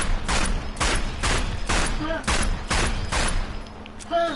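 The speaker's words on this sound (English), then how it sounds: "This is the Tokarev TT-33, Soviet pistol made in" A Soviet Tokarev TT-33 pistol fires in the video game Sniper Elite 4: eight sharp, evenly spaced shots ring out loud and close, followed by a short mechanical click at the end.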